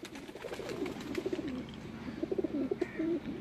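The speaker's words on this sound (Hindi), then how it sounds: "ये हमारे गोल्डन कबूतर है, लाल आँखों वाले" Golden red-eyed pigeons coo softly in low, rolling, repeated phrases, a few birds close by over faint background noise, with no voices.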